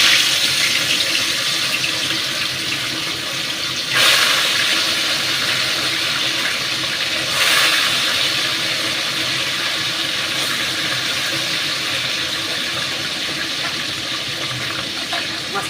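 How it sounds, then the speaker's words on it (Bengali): Tilapia pieces frying in hot oil, a steady broadband hiss of sizzling that holds throughout, with brief louder surges as fish is slipped in, no voices. "তেল গরম হয়ে গেছে, আমি এবারে আস্তে আস্তে করে মাছগুলো ছেড়ে দিচ্ছি।"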